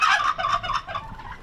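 A farm turkey gives one short, loud gobble close by, a rapid warbling burst that trails off quickly.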